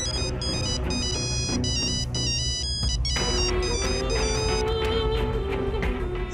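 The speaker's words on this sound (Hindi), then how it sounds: "अम्मार का फोन है, तुम बात करो, मैं नहीं करूंगा।" A mobile phone ringtone plays a bright electronic melody in a Pakistani drama scene, continuous and fairly loud over a dense background, with no talking.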